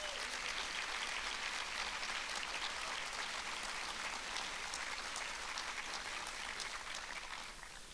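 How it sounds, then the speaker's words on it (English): A large audience at a talk held in the Atlanta History Center gives a dense, sustained round of applause, a steady wash of many hands clapping at once that tapers slightly at the end. "Can we please give them a huge round of applause?"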